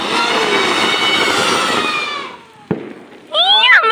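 During Vishu festivities, a firework gives a long whistling, fizzing hiss that fades out. A single sharp crack follows, then high warbling squeals close by.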